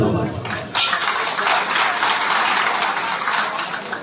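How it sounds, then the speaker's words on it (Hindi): Dense, steady applause from a crowd at a Pakistani stage program, loud and continuous for several seconds with no distinct individual claps standing out. "दोस्तों जो मैं दो तालियां मारी"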